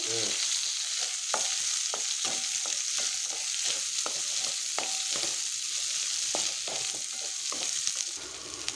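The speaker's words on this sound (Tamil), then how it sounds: "இப்போ இதெல்லாம் நல்லா வதங்கி வரட்டும்" Garlic, curry leaves and sliced onion sautéing in oil in a pan: a steady bright sizzle throughout, with repeated light scrapes and clinks of a spoon stirring, close-up with no talking.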